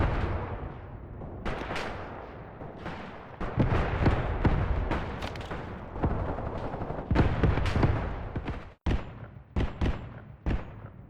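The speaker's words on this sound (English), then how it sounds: "our 82mm mortars are really providing nice support on that squad that was advancing on us" Distant 82mm mortar fire in the war game Graviteam: Pivot Point, a dense stretch of booming impacts and sharp reports layered with scattered gunfire, loud and continuous with brief sharp cracks toward the end.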